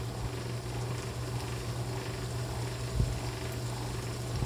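Seaweed stems stir-fried in a pan until the moisture cooks off, a low continuous sizzle with faint scraping and one soft knock of a utensil.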